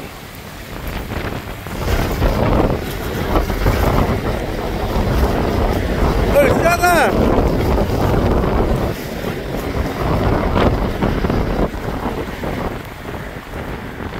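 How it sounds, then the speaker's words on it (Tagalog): Strong wind buffets the microphone with a steady roar over a boat and sea water at Hawaii Kai, while a voice briefly calls out. "Malakas ang hangin dito."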